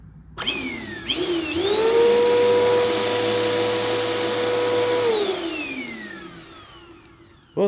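An upright vacuum cleaner motor switches on outdoors in the cold, spinning up with a rising whine, running steadily for several seconds loud and close, then winding down in pitch as it shuts off.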